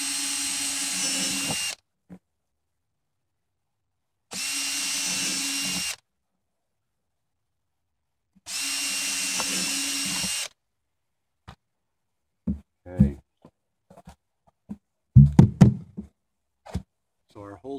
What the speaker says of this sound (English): So all we're going to do, drill a few holes a few inches up.